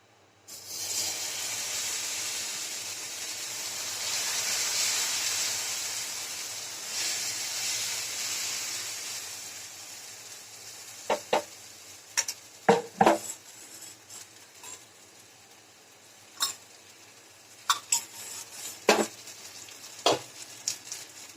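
Wheat dosa batter sizzles loudly on a hot pan for several seconds, the hiss gradually fading, followed by sharp metallic clinks and scrapes of a utensil against the pan; no one speaks.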